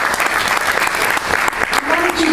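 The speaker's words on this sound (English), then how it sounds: "I think we should just all give a round of applause for all the work that's been done for" Audience applause at an event honoring Bella Abzug, dense and steady clapping from a crowd, loud and close, with a voice briefly audible near the end.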